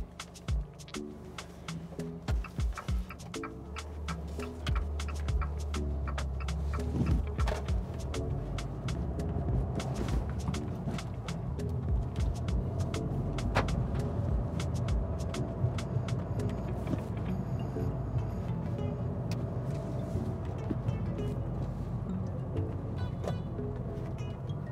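A car drives steadily along a road during a mock driving test, its engine and road noise forming a continuous low rumble throughout, with occasional small knocks and interior sounds.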